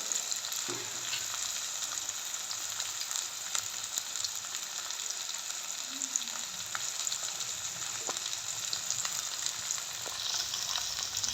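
Onions, green chillies and dried red chillies fry in oil for Jaffna-style banana sambar, giving an even, moderately quiet sizzle throughout with occasional faint stirring scrapes and small clicks.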